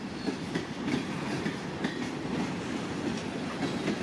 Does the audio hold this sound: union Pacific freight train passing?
yes